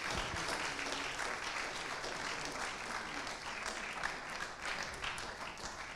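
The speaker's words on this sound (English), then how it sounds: "give them one big round of applause" A hall audience at a police civilian review board forum claps in sustained, even applause lasting several seconds, a dense wash of hand claps heard from a moderate distance with no voices over it.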